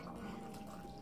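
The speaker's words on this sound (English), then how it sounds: "I've got some boiling water here." Boiling water pours onto cornmeal in a bowl for cornpone, a brief continuous splashing trickle heard on its own.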